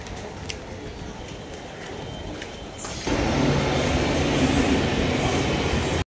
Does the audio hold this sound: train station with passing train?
yes